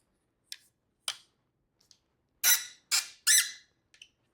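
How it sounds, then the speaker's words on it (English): A XXZU 210cm tripod light stand with a ball head squeaks as it is adjusted: a few short, sharp squeaks, then three louder, longer squeals in quick succession and a final faint chirp. The sound is close and there is no talk. "I'm telling you, the squeak is no joke."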